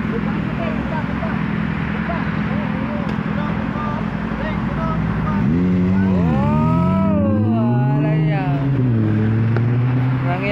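Motorcycles pass on a busy road, a steady loud traffic drone with engines revving and rising in pitch as they pass close by near the end, with people talking over it.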